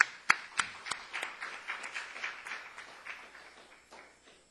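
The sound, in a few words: applause, clapping to welcome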